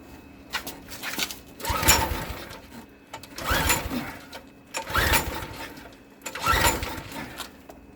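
A Briggs and Stratton Quantum Edge 6.5HP log splitter engine runs unevenly on half choke, surging and sagging in four swells as if about to die out, heard close with no talk.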